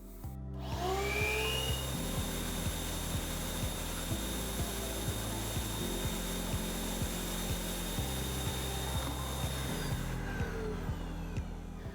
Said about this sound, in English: we're just going to insert our hose for picking up and our hose that goes to our shop vac, and we're ready to try it out